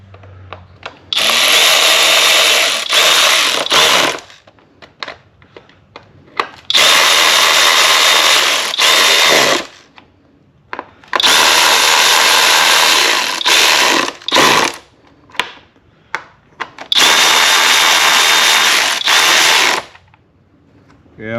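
A power tool tightens an 8mm bolt on a 2010–2014 Ford Fusion during a cylinder head temperature sensor job, whirring loudly in three long bursts with brief clicks and rattles between them.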